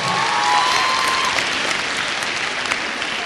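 Loud, sustained applause and cheering from a crowd at a middle school cheer competition awards ceremony for St. Joseph Middle School, steady dense clapping filling the whole stretch.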